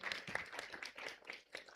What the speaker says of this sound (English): can we have a big, big round of applause for him?